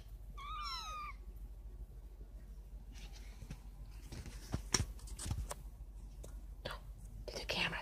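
Kittens give a short, clear meow at the start, followed by soft whispering voices and light rustling and clicks nearby.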